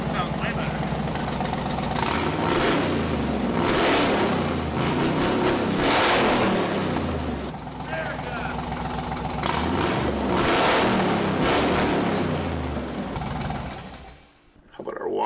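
The engine of a 1956 Pontiac 3/4 ton mud truck revs repeatedly and rumbles in rising and falling surges across the stretch, close and loud, then dips briefly near the end, with a voice speaking over it.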